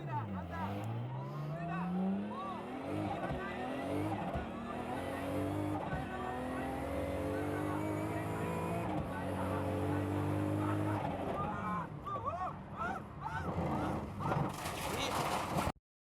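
Orido's Toyota Supra drift car running on a course during a D1 drifting session, its engine climbing and falling through revs with tire squeal, loud and sustained with sweeping pitch changes and brief breaks between gears.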